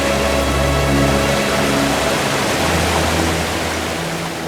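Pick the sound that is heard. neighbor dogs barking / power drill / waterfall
waterfall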